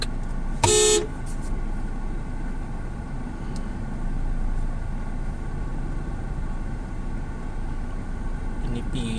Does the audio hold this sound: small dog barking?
no